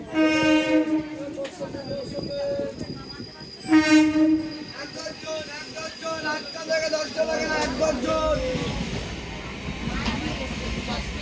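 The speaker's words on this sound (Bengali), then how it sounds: "ট্রেনে উঠতে উঠতেই" A local train sounds its horn twice in long tonal blasts, followed by rumbling wagons and clatter as passengers board, with voices in the background.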